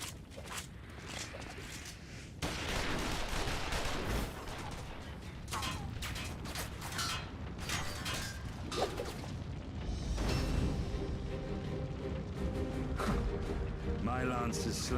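Bursts of gunfire and booms from a Final Fantasy XIV Stormblood cutscene, rapid shots mixed with explosions and whooshes under frequent dialogue and music.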